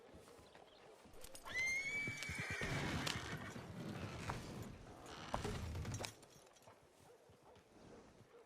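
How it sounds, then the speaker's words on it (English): A horse whinnies loudly in a Red Dead Redemption 2 wagon scene, with hooves clip-clopping and mechanical rattling around it, then fading to quieter ambience. "There goes one of the horses, Arthur."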